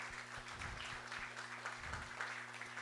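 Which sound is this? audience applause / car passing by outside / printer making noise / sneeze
audience applause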